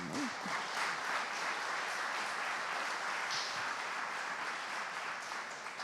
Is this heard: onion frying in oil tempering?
no